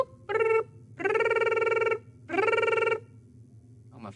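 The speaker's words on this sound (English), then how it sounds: "Oh, my phone's ringing." Telephone ringing in the horror game Blameless: three loud, buzzy electronic rings of about a second each with short pauses between, over a low steady hum, with no talking.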